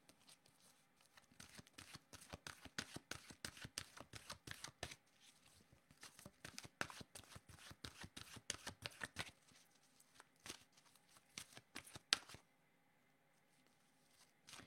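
Oracle cards shuffled by hand, a long run of rapid crisp riffling flicks, close and fairly quiet, pausing briefly midway and ending in near silence.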